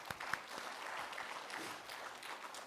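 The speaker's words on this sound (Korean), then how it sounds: "박수 한번 치겠어요." A church congregation in a Korean service claps, the applause soft and distant but continuous, with a few sharper claps at the start.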